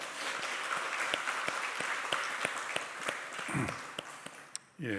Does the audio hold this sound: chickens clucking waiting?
no